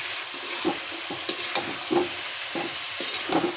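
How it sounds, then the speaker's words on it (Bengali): Taro and spice paste frying in a pan for a Bengali hilsa curry: a steady close sizzle with rhythmic stirring scrapes about every half second. "এই মশলাটা আমি ভালো করে পাঁচ মিনিট কষিয়ে নেব"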